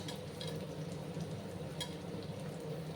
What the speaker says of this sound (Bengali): তেলটা গরম হয়ে গেছে এবার আমি এই যে বিনস আর গাজরটা দিয়ে দেব